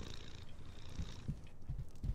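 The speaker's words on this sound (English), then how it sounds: "Aw, purring cat." A cat purrs close up in the Harry Potter and the Order of the Phoenix PC game, a soft rhythmic rumbling purr pulsing in short breaths over about two seconds, alone and quiet.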